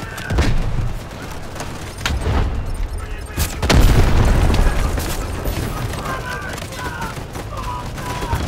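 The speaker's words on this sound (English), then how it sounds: "Incoming artillery, destroy the enemy." Artillery shells explode in a Delta Force: Hawk Ops battle, a dense rumbling barrage of booms and blasts layered with gunfire, loud and continuous, with one especially heavy impact midway and radio-style voice callouts mixed in.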